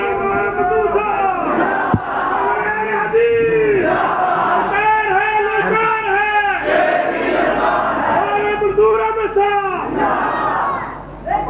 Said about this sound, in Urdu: شیر پنجاب نعرے لگاؤ